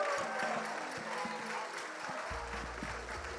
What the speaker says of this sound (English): A big round of applause to all 9 contestants